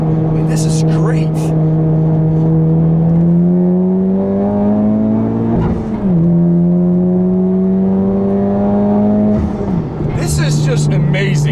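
A 2017 Honda Civic Type R FK8, front-wheel drive, pulls hard out of a corner, its engine droning loud and steady as revs climb, with two brief dips at gear changes before it climbs again; someone talks over it.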